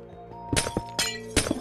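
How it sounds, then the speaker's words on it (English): Glass shatters in three or four loud, bright crashes, the biggest bursts near the start and end, heard close over a steady background tone with no voices. "You're breaking glass!"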